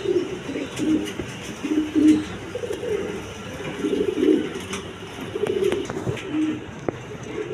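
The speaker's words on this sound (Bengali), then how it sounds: "একদম কোয়ালিটি সম্পন্ন কবুতর" Several pigeons coo in repeated low, throaty rolls, fairly close, with a faint background hum and a few small clicks, in a setting where pigeons are shown for sale.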